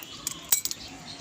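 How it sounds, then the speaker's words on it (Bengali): A metal spoon stirs cumin and coriander spices into plum pickle (kul achar), giving a few quick, light clinks and taps against the container, close and fairly quiet. "তো মশলা ছিটিয়ে আমি একটু নেড়ে নিচ্ছি এখানে"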